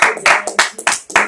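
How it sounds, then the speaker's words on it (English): A small group claps in a few distinct bursts, loud and close, with an uneven rhythm of about five separate claps over a second. "Can we give him another round of applause?"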